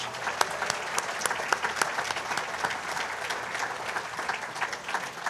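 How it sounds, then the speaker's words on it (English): Sustained applause from a large audience at a park district awards gala, dense and steady with sharp individual claps standing out over the crowd for several seconds. "Please join me in a round of applause for the dedication and long-term commitment of these board members"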